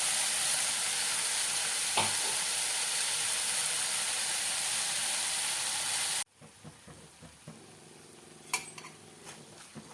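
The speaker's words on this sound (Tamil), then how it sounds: "மசாலாவும் வெங்காயம் நல்லா வதங்கிடுச்சு." Ground tomato, garlic and onion masala frying in a pan for green peas masala: loud steady sizzle that drops abruptly partway, then quieter bubbling with a few clinks of a utensil, no talking.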